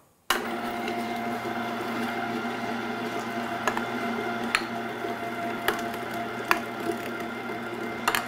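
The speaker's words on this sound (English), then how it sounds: "So, we'll turn our grinder on." An electric meat grinder works through cold, partly frozen meat for Italian sausage. A steady motor hum starts abruptly, with occasional sharp clicks and crunches over it and no talk.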